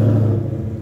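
Ford Mustang GT with a 5-litre V8 idling nearby, giving off a steady, deep, loud rumble with a strong low throb and no talking.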